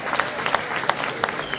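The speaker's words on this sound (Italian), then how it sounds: "Dai, facciamo un applauso." Audience clapping at an amateur radio electronics fair in Montichiari, a steady patter of hands with a few sharper claps standing out, moderately loud in an indoor hall.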